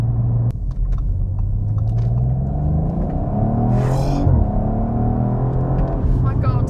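An Audi RS5 Sportback from 2019 pulls away hard, its engine rising in pitch as it accelerates, heard from inside the cabin as a loud, continuous rumble with a person talking over it.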